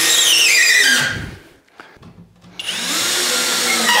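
A power driver runs screws into a drywall niche board through pre-drilled holes in a bathroom build, with a loud whirring burst, a brief pause, then another sustained drive.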